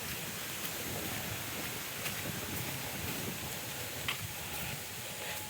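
Strong wind roars steadily outdoors on a walk along a shortcut near a house lot, a loud, continuous rushing with brief gusty surges and no talking.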